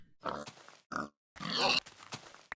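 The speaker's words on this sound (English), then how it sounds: "that was a wet pig" Pig grunts in the game Minecraft, three short snorting bursts separated by gaps, close and clear with no talking.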